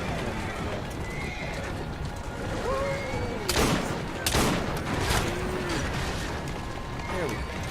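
A horse in the Assassin's Creed Syndicate video game neighs and whinnies over steady hoofbeats, with sharp gunshots cracking through and someone talking at times.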